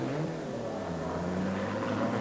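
A Volvo touring car racing in the 1986 ETCC pulls away from a pit stop, its engine a loud, steady rising roar with strong low harmonics held for a couple of seconds.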